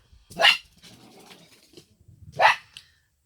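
Dogs bark in two loud, separate bursts a couple of seconds apart, close by, with quieter low rustling and a faint whimper or growl in between and no talking.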